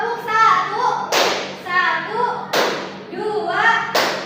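A high school class claps hands together in unison, sharp group claps spaced about 1.4 seconds apart, alternating with a chanted count in young voices between each clap.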